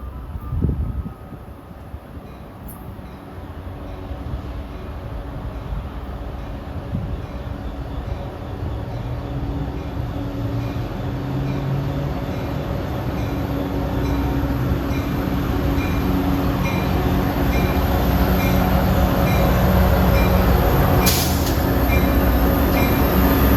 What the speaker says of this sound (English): Train 116 in Menlo Park.